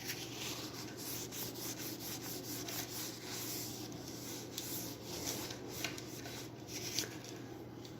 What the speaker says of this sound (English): I'm going to clean it with a bit of rubbing alcohol